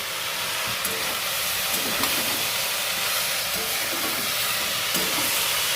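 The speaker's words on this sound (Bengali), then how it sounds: "কচু ফুলটা অনেকটাই ভাজা হয়ে গেছে, আমি আরো একটু ভাজা ভাজা করে নেব" Boiled kochu (taro) flowers fry in oil in a pan with a broad, continuous hiss and sizzle, close and steady throughout, broken by a few faint clicks of stirring, with no one speaking.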